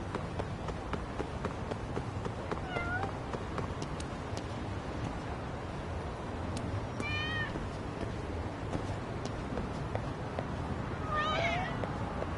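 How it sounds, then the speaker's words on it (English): Cats meowing in the video game Lost Judgment, several short mews scattered across the stretch, faint to moderate, over a steady ambient street background with soft footsteps. "Cats."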